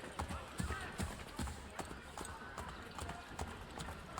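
Horse hooves clip-clopping at a steady walking rhythm in Assassin's Creed 3, moderately close, with faint background ambience and someone talking over it.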